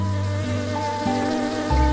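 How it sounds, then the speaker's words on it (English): A bee buzzes steadily as it flies in a children's bedtime story, the droning hum loud and close with shifting pitch, heard alone without speech. "The angry bee flew away."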